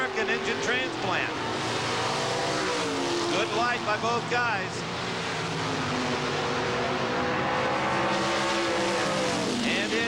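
Drag racing cars with big-block Chevrolet engines at a 1989 NHRA sportsman event roar loudly down the strip, a harsh sustained engine blare with rising tones, while a commentator talks over it.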